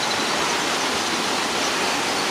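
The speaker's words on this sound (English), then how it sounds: "the amount of water running, rushing right there in the gully" Rainwater rushes down a gully in Jamaica, a steady, loud, broadband roar of flowing water with no breaks.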